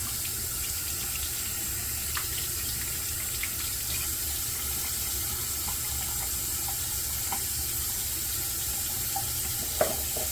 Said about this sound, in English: Water on the face, get this brush wet.